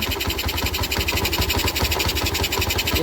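A Yamaha Jupiter Z motorcycle engine runs with a rough manual clutch, making a loud, fast, steady rattling knock with heavy vibration, close up and continuous without talk.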